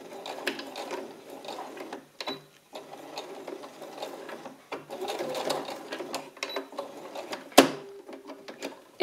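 Sewing machine running a straight seam in several bursts of fast mechanical stitching, with brief pauses, clicks and a sharp clack near the end.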